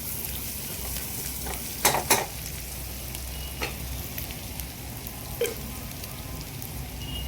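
Onions frying in a pan and being stirred, a continuous close sizzle broken by a few sharp scraping clacks of the spoon against the pan.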